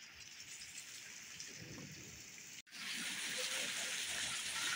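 Heavy rain with hail pouring in a continuous loud hiss, briefly cutting out partway through before resuming even stronger.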